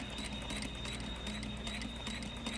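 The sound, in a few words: sewing machine stitching a seam line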